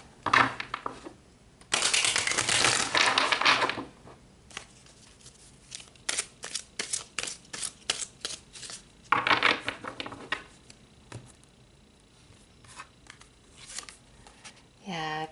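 Tarot cards are shuffled and pulled close by, with bursts of riffling and fluttering alternating with sharp individual card snaps and flicks. A voice talks at times.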